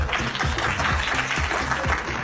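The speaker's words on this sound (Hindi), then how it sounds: "ओके गाइस, जेदा के लिए तालियां हो जाएं।" Party guests clap together in a steady, continuous round of applause for a few seconds, close and fairly loud with no talk over it.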